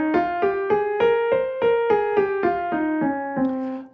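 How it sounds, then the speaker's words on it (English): Minor scale with a minor second played as a run of about eleven distinct single notes, each plucked or struck cleanly in an even rhythm and stepping through the scale, alone without talk. "I suppose we could have a minor scale that had a minor second, couldn't we? If I did, it would sound like this."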